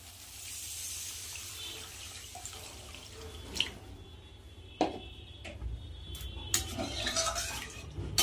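Water is poured into a pan of fried spice masala for a pabda fish curry, producing a soft splashing and dripping wash, then a few sharp metallic clinks and stirring sounds.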